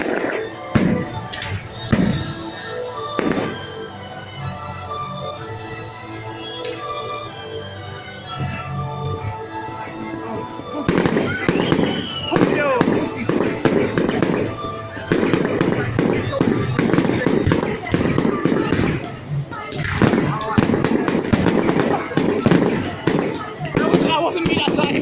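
Bonfire night fireworks burst in repeated sharp cracks and booms, with sparse bangs at first and then a dense, loud barrage, while people chat over them.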